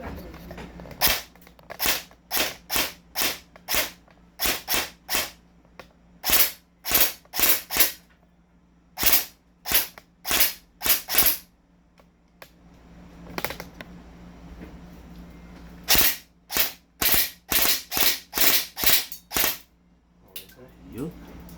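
Rifle gunshots at a shooting range crack out in rapid strings of sharp, loud reports with brief pauses between volleys, while people talk quietly underneath.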